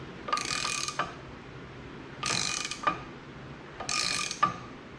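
A hand crimper tightens down a fitting on a custom automotive AC line for a 1976 GMC, making three separate bursts of ratcheting, grinding mechanical clicks. The sound is close and alone, with no speech.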